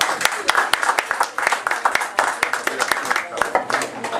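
Crowd applause at a Tea Party gathering in Fort Lauderdale for speaker Peter Snyder: loud, sharp, dense clapping with some voices mixed in throughout.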